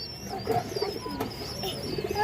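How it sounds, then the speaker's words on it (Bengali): A pair of domestic pigeons, one male and one female, make soft, low, rolling coos close by, a few short calls spaced over a quiet background. "দর্শক এখানে দুটো কবুতর আছে"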